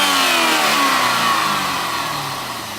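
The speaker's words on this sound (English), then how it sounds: "Go ahead and rev it up." A 400-horsepower LS2 V8 from a 2007 Corvette C6, mated to a 6-speed transmission, is revved up close, its engine note loud and steady before slowly falling as the revs drop, with no talking.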